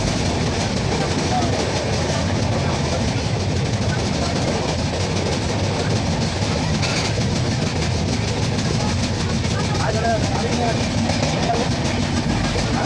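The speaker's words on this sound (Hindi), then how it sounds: "तो हमारी ट्रेन करखेली रेलवे स्टेशन को भी स्किप करके निकल गई।" A train rolls through Karkheli railway station on the Mudkhed–Basar line without stopping, a steady close rumble with clattering wheel noise throughout, loud and continuous.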